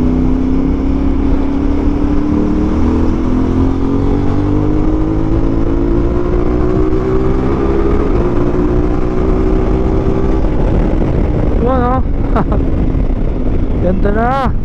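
CF Moto 450MT adventure motorcycle engine running loud and steady with rising revs, a strong droning tone climbing gradually over the whole stretch, with brief wavering throttle blips near the end.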